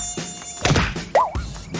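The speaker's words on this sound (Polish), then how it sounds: "Au! Głupie komary!" A thin mosquito whine drones through the scene among sharp slaps and thuds, with a swooping cartoonish tone breaking in near the middle and a fairly loud, busy overall mix.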